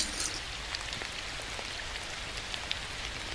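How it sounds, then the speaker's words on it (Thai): Rain falls in the Roblox driving game A Long Drive as a steady, even hiss with scattered faint drop ticks. It stays moderately quiet and continuous, and no one talks over it. "นี่เรียกฝนตก"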